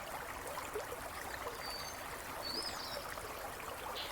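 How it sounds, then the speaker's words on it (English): A flowing river streams and trickles steadily throughout, a continuous watery wash with soft gurgles, fairly distant and even, with no voices. "And you feel yourself mesmerized by the river."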